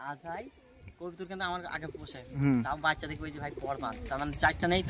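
Pigeons coo in repeated soft throaty bursts around a pigeon loft, fairly close, mixed with people talking nearby.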